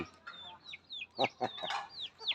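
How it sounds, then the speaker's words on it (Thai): Kai Keng chickens in Sakon Nakhon cluck in short, close bursts, with a few rising calls and quick repeated clucks over a faint background. "นี่แหละคือไก่เก่งครับผม"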